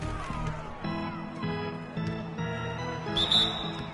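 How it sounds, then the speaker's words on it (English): A referee's whistle in the basketball video game NBA 2K16 gives a short, bright blast near the end, over a steady arena crowd din and game sounds. "So he gets the whistle."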